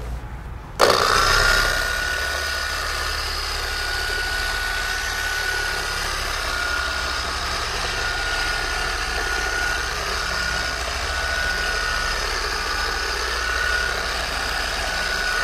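An electric car polisher on a low setting buffs wax onto a car's paint. It starts with a sudden burst, then runs as a steady, close whirring drone with no talk.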